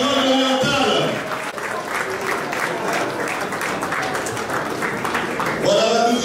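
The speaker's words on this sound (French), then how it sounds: "Applaudissez pour le ministre" Sustained crowd applause for a government minister at a political gathering in Grande Province Orientale, dense and steady throughout with voices mixed in at the start and end.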